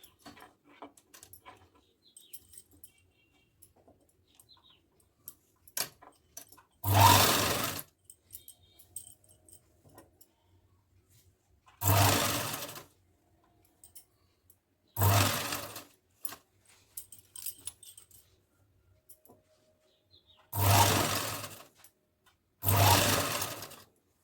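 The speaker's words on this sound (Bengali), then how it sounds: "তারপরে এভাবে রেখে সেলাই করে দিতে হবে।" A sewing machine stitches a small child's churidar in five separate loud bursts of a few seconds each, with quiet pauses between runs as the fabric is repositioned.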